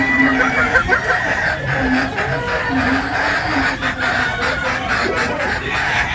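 Boston Roundhead pullets cluck steadily in a pen, with repeated close clucks and occasional crowing calls over a continuous farmyard background, no voices present.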